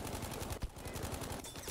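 Rapid automatic gunfire from a war video game, a dense loud burst of closely spaced shots firing continuously with a brief gap midway, heard alone without talk.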